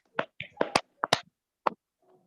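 A few sharp hand claps or snaps in a group guidance session, several quick crisp bursts close by with short pauses between them, quiet otherwise.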